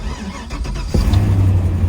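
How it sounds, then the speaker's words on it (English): A farm truck with an NV4500 five-speed manual transmission cranks and fires up in cold weather, a brief starter whir followed by a steady, loud idle rumble that continues to the end. "See if the farm truck will start up."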